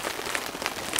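Rain falling on a tent during a winter storm of snow and ice at an exposed camp, a steady dense patter with scattered sharper drop hits, close and moderately loud, no voices.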